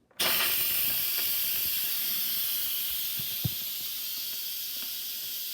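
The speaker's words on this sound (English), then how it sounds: "This one, you just simply push the button and it vents the steam for you." An Instant Pot releasing pressure through its vent: a sudden loud hiss of steam bursts on and holds as a steady, bright, continuous jet for several seconds, close and alone, with a few faint clicks underneath.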